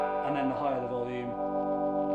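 An electric guitar played through the small built-in amp of a Pignose PGG-259 holds a thick, overdriven chord that rings steadily for about two seconds, close and moderately loud.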